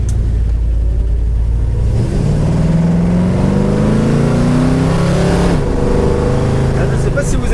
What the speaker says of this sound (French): j'ai accéléré assez fort, et quand la voiture est arrivée au régime, la lumière s'est allumée